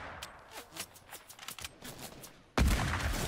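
A sniper rifle fires in a video game: one loud, sudden shot near the end, following a stretch of quieter game ambience.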